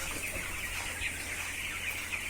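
English breed chickens clucking nearby on a farm, soft overlapping calls over a constant hiss of background noise, no talk.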